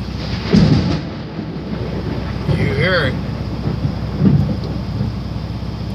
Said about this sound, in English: Sitting out a little rainstorm.